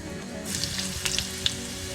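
Spoonfuls of shrimp fritter batter drop into hot oil and break into loud sizzling and crackling, with a few sharp pops over a steady frying hiss.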